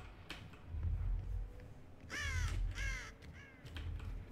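A crow in the Dead by Daylight game caws several times in short harsh bursts over a low ambient rumble, fairly faint and distant in the mix.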